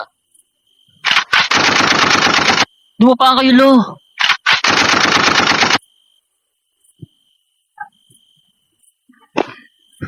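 Two long bursts of rapid automatic gunfire, loud and close, separated by a short shouted line, followed by a few scattered faint sounds.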